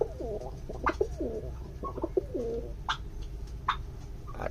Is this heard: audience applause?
no